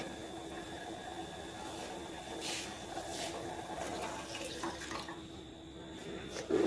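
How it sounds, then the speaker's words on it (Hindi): Milk poured into a pot of boiling water for a garlic dish: a faint, continuous watery hiss and gurgle that swells briefly at the very end. "अब हम इसमें डालेंगे दूध"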